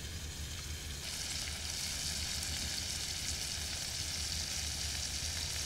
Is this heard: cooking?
yes